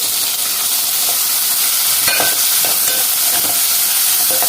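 Tomato pieces fry with softened onions and curry leaves in a pan, a loud steady sizzle with scattered crackles and stirring clicks, close and without talk.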